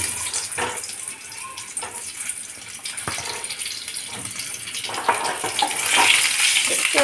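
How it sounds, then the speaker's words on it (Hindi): Stuffed eggplant (bharwa baingan) goes into a pan of hot oil and sizzles with a close, continuous hiss that swells louder toward the end. "अब इसमें बैगन को डाल देते हैं।"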